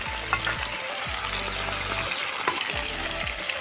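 Chicken pieces sizzle in hot spiced oil in a pan, a steady crackling fry with repeated scraping stirs of a spatula against the pan, close and fairly quiet, with no talking.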